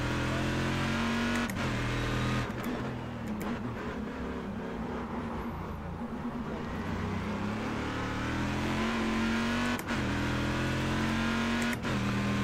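A race car engine in iRacing drones steadily at high revs, loud and close, with a few sharp clicks and brief pitch dips as it shifts or passes other cars.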